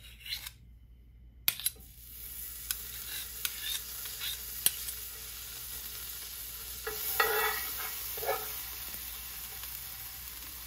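Butter melting in a pan on a stove at medium heat, before vermicelli goes in: a soft, steady sizzle with scraping stirs and light utensil taps against the pan, close and alone.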